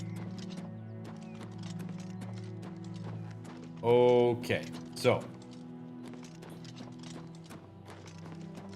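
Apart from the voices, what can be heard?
horse hooves clip-clopping in video game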